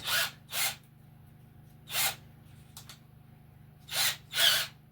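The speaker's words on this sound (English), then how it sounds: "So I'm gonna drill the blocks." A small power drill works on tiny blocks for an RC4WD Chevy Scottsdale scale model build, giving short bursts of high whirring, about six separate pulses with pauses between, over a faint steady hum.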